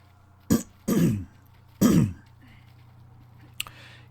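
A man clears his throat close to a microphone with several harsh bursts of differing length, then stays quiet while faint game sounds from Monster Hunter World play in the background.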